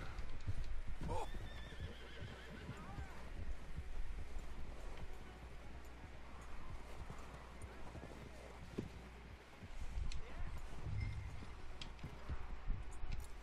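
A horse whinnies loudly near the start, then hooves clop steadily on and off through a busy Red Dead Redemption 2 game soundscape with faint background chatter, as the horse is hitched.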